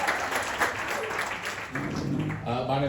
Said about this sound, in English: You can applaud for him as well.